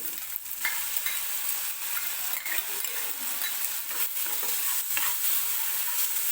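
Ginger garlic paste sautéing in oil for a potato kurma, a dense continuous sizzle heard up close with occasional stirring scrapes, loud and steady throughout without any talking.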